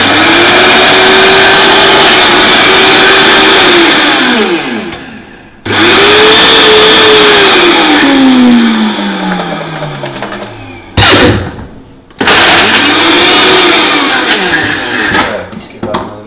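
A food processor mixes paleo chocolate ball mixture with cacao in three loud, close bursts of whirring motor noise. The pitch rises, sags and falls away as each run ends, with short pauses between them.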